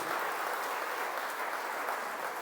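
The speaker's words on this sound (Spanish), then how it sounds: "Dele un fuerte aplauso a esta palabra de Dios" A church congregation applauding during a Spanish-language service, a faint, even wash of distant clapping with no individual claps standing out.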